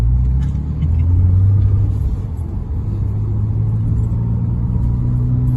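A Porsche Cayman 2.7 with an MRN twin-turbo conversion drives with its traction control off, its engine a loud, steady low rumble that swells slightly as it pulls across an open car park.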